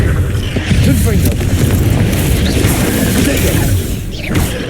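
Confringo fire spell blasts from Hogwarts Legacy combat, heavy booming explosions and whooshes layered densely through the whole stretch with continuous game action and a voice over it.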